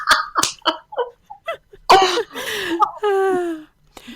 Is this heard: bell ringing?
no